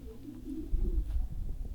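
Racing pigeons coo softly in a loft at the end of the racing season, low murmuring calls under steady background rumble, with no one speaking.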